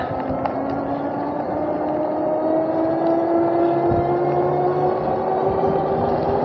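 A Macfox X7 road-legal electric bike accelerates, its motor whine climbing steadily in pitch over continuous wind and tyre roar, with no one speaking.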